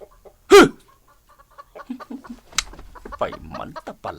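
Chickens clucking in short, scattered bursts, one sharp loud squawk near the start, then a run of soft clucks and a few louder calls close by, with a person shooing them.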